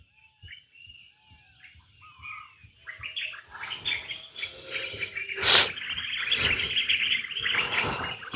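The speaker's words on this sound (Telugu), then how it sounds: "పక్షులు మాత్రం సూపర్ అండి. ఇక్కడ కిరకల్లో కలకల్లో గోల గోల" Birds chirp and twitter in a forest at night, several calls overlapping and growing busier, with a faint insect drone behind them.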